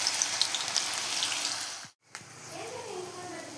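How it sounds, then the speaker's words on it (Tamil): Small balls of mixed masala deep-frying in hot oil for roadside kaalan, a steady close crackling sizzle that cuts out briefly midway, then resumes with a voice speaking over it. "நம்ம கலந்து வச்ச மசாலாவை இந்த மாதிரி குட்டி குட்டியாக நம்ம ஆயிலில் பொரித்து"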